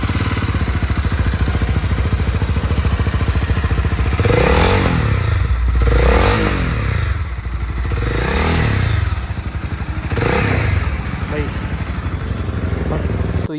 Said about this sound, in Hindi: तो ये सुनी आपने होंडा CB 300R की एग्जॉस्ट साउंड